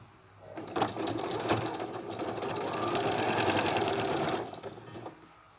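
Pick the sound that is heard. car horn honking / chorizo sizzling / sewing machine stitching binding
sewing machine stitching binding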